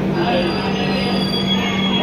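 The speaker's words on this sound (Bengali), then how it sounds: "12246 4 नम्बर प्लैटफर्मे ढुके गेছে।" The 12246 Duronto Express rolls into platform 4 at night, a loud steady rumble with a sustained wheel squeal and a constant hum, no break in the noise.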